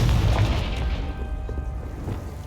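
Confringo fire spell blasting in Hogwarts Legacy: one loud, deep boom at the start, then a rumbling tail that settles into steady low noise.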